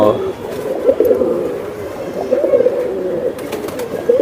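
Giribaz pigeons coo in repeated, throaty pulses close by, one bird after another, under ongoing conversation from people nearby.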